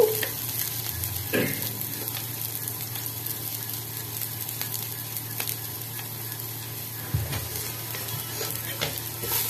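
Potato curry cooked with skins on, green chilies and salt is sautéed and stirred in a pan, a constant close sizzle with occasional spatula knocks and scrapes.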